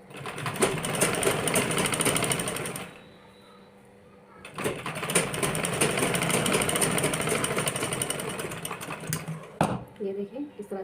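A sewing machine runs a straight seam on a blouse after pleats are gathered, two long bursts of fast, steady mechanical stitching heard up close with a quiet pause between and short stops near the end.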